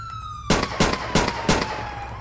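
Four sharp, loud gunshot bursts in quick succession in GTA IV over a steady wailing tone, with a background hum, no voices.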